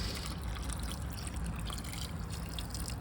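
Water pours steadily onto a small potted plant, a continuous close trickle and splash with no talking.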